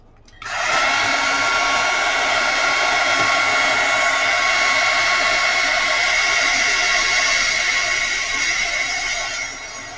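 A hair dryer blows to dry wet paper for a handmade junk journal folder. It switches on abruptly and holds a loud, steady, close whooshing roar with a whine in it for several seconds, then eases slightly near the end, with no talk.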